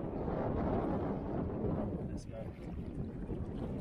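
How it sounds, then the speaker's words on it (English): Steady wind blowing over shallow coastal water on a morning mackerel and trevally fishing trip, a continuous broad rushing roar with gusty buffeting on the microphone, loud and close throughout, with a person speaking over it. "Oh man, the wind is up"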